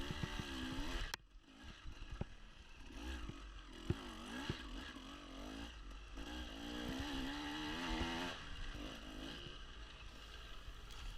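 Dirt bike engine during a wooded hare scramble race, a continuous revving drone with wavering pitch as the rider accelerates and eases off, close and loud with no voices.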